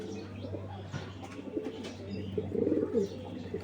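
Pigeons at a breeder's loft coo softly and repeatedly, low murmuring calls layered over a steady background hum, with a few chirps and a denser burst of cooing near the end.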